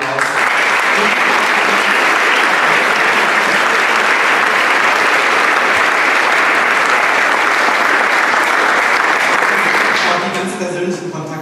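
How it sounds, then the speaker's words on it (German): Sustained, loud audience applause at a 20th-anniversary celebration of the women's football club 1. FFC Frankfurt, steady dense clapping for about ten seconds before fading, with voices emerging at the end. "Ich möchte auch nochmal einen kleinen Applaus."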